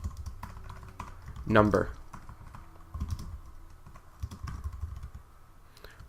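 Someone types HTML code on a computer keyboard in quick bursts of close key clicks, with a louder rattle of strokes early on, while someone talks over it.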